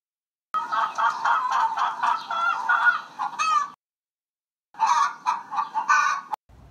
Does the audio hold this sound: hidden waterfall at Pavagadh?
no